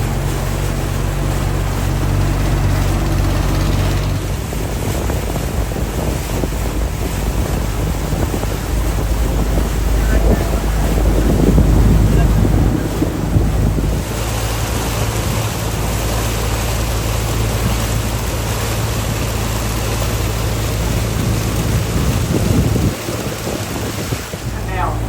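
Boats on a river in the Mekong Delta, a steady engine drone under heavy wind buffeting and rushing water, loud and continuous, heard from on board.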